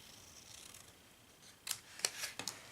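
Scissors snipping through paper along score lines for a rounded-flap treat box, a few short crisp cuts close by in the second half after a quiet start.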